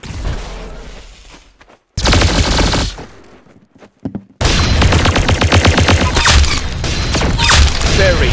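Rapid gunfire from the Roblox game Arsenal comes in loud bursts, short volleys broken by brief silences, then a sustained rattling stream of shots with a few heavier thumps.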